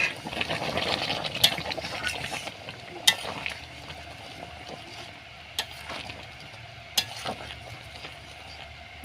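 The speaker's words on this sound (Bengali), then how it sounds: "দেখো মাংসটা কেমন ফুটছে কাঠের জালেই কিন্তু এরকম ফুটবে" Steady bubbling and sizzling of meat boiling in a pot over a wood fire, with occasional sharp clicks and knocks over the continuous simmer.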